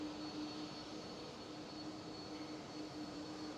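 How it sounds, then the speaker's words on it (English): A KLM Embraer E195-E2 jet touching down at Amsterdam Schiphol makes a distant, steady wash of engine rumble with a faint thin whine, fairly quiet and without speech. "KLM E195E2 just touchdown"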